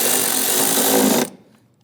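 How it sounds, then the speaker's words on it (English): A power tool driving a bolt tight on the oil filter housing of a 2011-2021 Jeep Grand Cherokee 3.6L, one steady close whir that cuts off abruptly. "I'll go ahead and tighten down this bolt."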